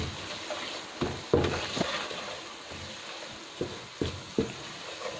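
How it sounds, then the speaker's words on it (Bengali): Salt and spices fry in oil in a pan for a prawn and taro dish, a low hissing sizzle broken by several soft knocks and scrapes of stirring, close and fairly quiet. "এটা লবণটা আমি এখনই তেলের মধ্যে দিয়ে দিচ্ছি এবং অন্যান্য মশলাগুলো দিয়ে হালকা একটু নেড়ে নেব"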